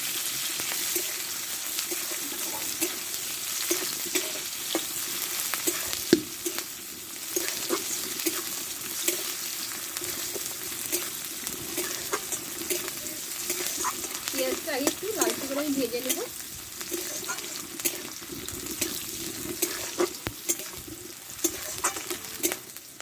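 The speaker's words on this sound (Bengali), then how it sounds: "দেখো পেঁয়াজটা আমি লালচে করে ভেজে নিয়েছি" Onions frying in a pan while cooking a spicy Bengali dish, with steady sizzling and occasional stirring throughout, and a brief burst of clattering near the middle.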